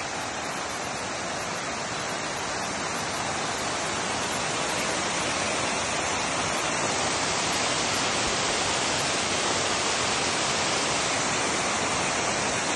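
Water pours from a salt mountain in the desert, forming a salt waterfall: a dense, steady, hissing roar that stays constant and close throughout, with no voices.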